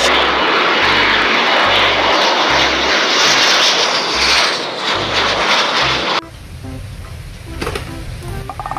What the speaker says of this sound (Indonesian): Wah, ada jet.